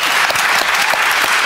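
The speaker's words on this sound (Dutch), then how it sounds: "Ja, dat applaus komt jullie meer dan toe." Dense, steady audience applause in a Dutch TV studio talk show, many hands clapping continuously and loudly at close range with no talk over it.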